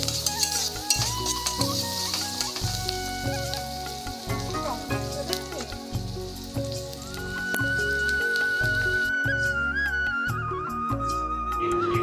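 Onion frying and stirred in a pan for plain chowmein makes a continuous sizzle and scraping, partly masked by steady background music.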